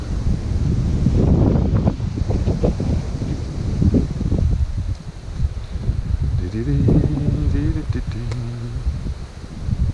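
Steady wind buffets the microphone outdoors by clear water while pike fishing, a continuous rushing roar with gusts, and a person talks over it throughout.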